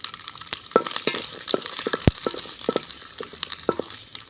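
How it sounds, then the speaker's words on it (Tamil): Garlic cloves and chillies sizzle and crackle in hot oil as they are stirred for a thuvaiyal chutney, with close, busy popping and scraping throughout. "இதையும் சேர்த்து எண்ணெயிலே வதக்கிக்கலாம்"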